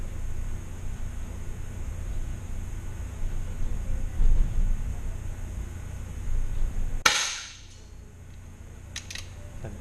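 A single sharp gunshot fired during a target shooting session, a sudden loud crack against steady background hiss and low rumble, followed by quieter room ambience and a few faint clicks.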